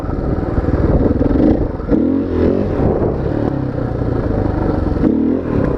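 A motorcycle engine revs hard and unevenly as the rider tries a wheelie, the loud throttle bursts rising and falling close by with some clatter.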